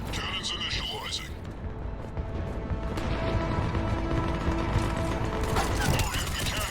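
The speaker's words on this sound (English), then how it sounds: "Got him. Cannons initializing." Mechanical whirring and ratcheting of cannons powering up in the video game Mass Effect 3, a steady layered grinding with clanking gear-like clicks and a sharper metallic burst near the end, set over combat noise and voices.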